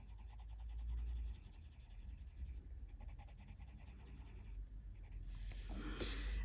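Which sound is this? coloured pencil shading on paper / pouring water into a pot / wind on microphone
coloured pencil shading on paper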